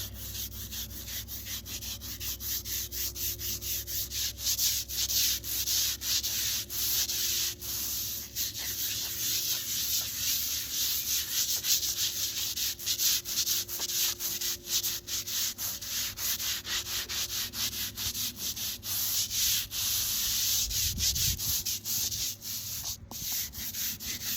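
A brush scrubs a veteran's cemetery headstone in a continuous, gritty rasp of rapid back-and-forth strokes, close and steady for over twenty seconds with no speech.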